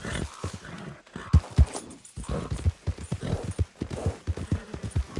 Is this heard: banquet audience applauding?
no